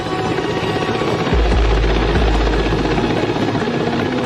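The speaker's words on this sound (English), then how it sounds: "Next day, November 2nd, the Su-33 made its first deck takeoff." An Su-33 fighter jet makes its first takeoff from a carrier deck, a loud continuous roar with a deep low rumble swelling partway through and holding steady to the end.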